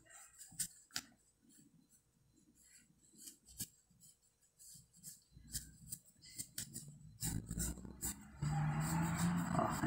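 Scissors snipping fabric for a rag doll leg: soft, scattered clicks and cuts close by and fairly quiet, growing denser toward the end.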